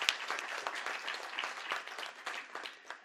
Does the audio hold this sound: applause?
yes